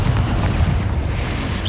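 Bombarda and Confringo spell explosions in Hogwarts Legacy make a loud, sustained booming roar. The blasts blur into one continuous rumble and no voice is heard over it.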